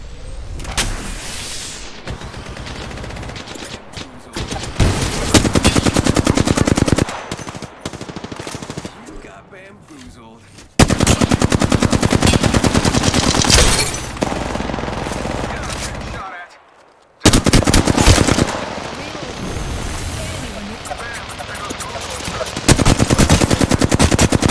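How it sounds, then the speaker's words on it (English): Automatic weapon fire from an Apex Legends Season 7 match, loud rapid bursts in several long volleys with brief gaps and one near-silent pause, mixed with game effects. "Shot fired."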